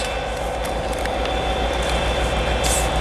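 A DRS Class 57 diesel locomotive, 57307, on standby duty at Carlisle Citadel station on the West Coast Main Line, with a steady rumble and hum from the idling engine amid station ambience, continuous and fairly close.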